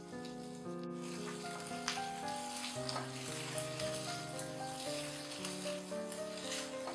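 Shallots and spring onion stems sautéing in a pan give a steady, moderate sizzle that runs throughout, mixed with background music and no speech.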